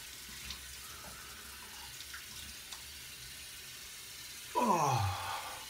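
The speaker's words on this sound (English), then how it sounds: "Let me just rinse off my face." Water from a bathroom sink tap splashes briefly near the end while a face is rinsed after shaving, a short close gush following a quiet stretch of faint room noise.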